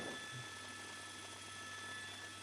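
A news helicopter hovering over a police car chase gives a faint, steady droning hum with a constant rotor wash, heard alone and distant throughout.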